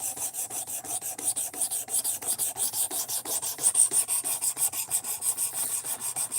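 A knife of fairly soft steel is drawn repeatedly across a whetstone in rapid, even strokes, each a bright raspy scrape, close and distinct, about five per second without pause and with no talk.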